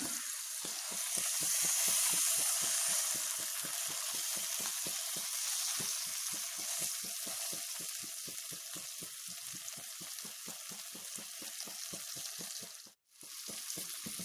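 Steady, loud sizzling of mackerel frying in hot oil in a pan, with a fast crackling pulse throughout and a brief dip near the end.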